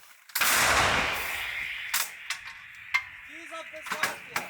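A single heavy blast from an American howitzer firing in Ukraine's Donetsk region booms up close and rolls away in a long rumble, followed by scattered clanks and a brief voice.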